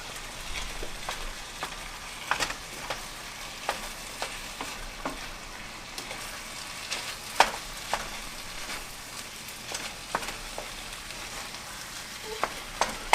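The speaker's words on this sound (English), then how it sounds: "we're just going to kind of go in there and break it up and start mixing the onions" Ground beef with onions and taco seasoning sizzles steadily in a pan while a utensil breaks it up and stirs, adding scattered scraping taps and clacks over the constant frying hiss.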